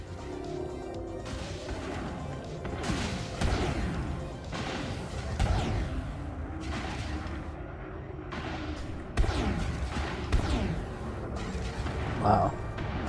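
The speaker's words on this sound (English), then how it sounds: "That guy also has shark cannons, by the sounds." Shark cannons fire during Elite Dangerous space combat: repeated heavy booms and crashing blasts with whooshing trails, irregularly spaced, over constant game noise.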